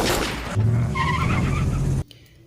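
A CIA car speeds off during an escape scene, tires skidding and the engine roaring loud and close for about two seconds before the sound cuts off abruptly.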